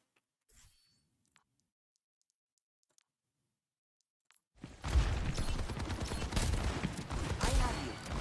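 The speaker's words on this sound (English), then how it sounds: "Let's keep shooting." Gunfire from a shooter video game: a few faint isolated clicks, then after a near-silent stretch a dense, sustained fusillade of rapid shots and game noise that fills the rest.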